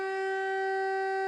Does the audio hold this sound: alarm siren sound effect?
yes